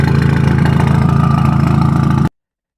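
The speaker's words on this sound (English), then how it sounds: "The 4-cylinder is a surprisingly low revving 4-banger, and is really deep and muscular sounding compared to a Honda." A 2001 Audi TT Quattro's four-cylinder engine runs at a steady, deep low hum with a faint regular pulse, heard close and alone before cutting off abruptly.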